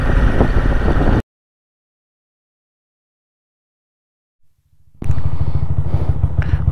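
A motorcycle engine runs loud and close, cuts to near silence for several seconds, then revs back up with a rough, throbbing roar.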